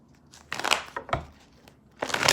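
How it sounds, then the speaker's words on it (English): Tarot cards being shuffled through several decks: crisp papery riffles and crinkling bursts in three separate bouts, close and moderately loud, with no talking. "this is some of the cards that I'm seeing as I'm shuffling through the decks"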